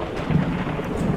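Thunder in the game Forever Skies rumbles as a brief, deep, rolling boom over a steady wash of rain, with no talk.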